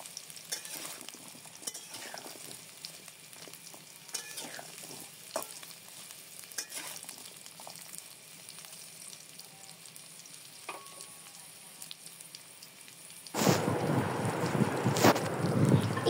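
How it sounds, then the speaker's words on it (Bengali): Young jackfruit and shrimp being stir-fried in a pan, with a soft, steady scraping and stirring that builds into a loud, close sizzle near the end. "এরপর আবার খুব ভালো মতো সব একসাথে নাড়িয়ে ভেজে নেব"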